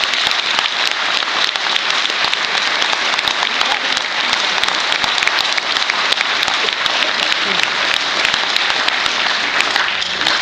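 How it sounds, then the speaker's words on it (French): A conference audience in Nantes breaks into loud, sustained applause, a thick wall of clapping that holds evenly throughout, near and full. "ça mérite un énorme applaudissement"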